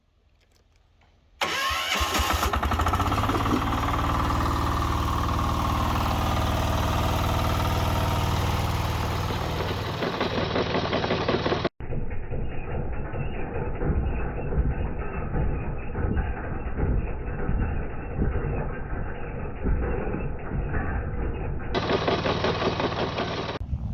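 A WM 1100BE6KM DIFF walk-behind tractor with an attachment starts up and runs loudly and steadily close by for over twenty seconds, its tone shifting partway through as the load changes, with no talking.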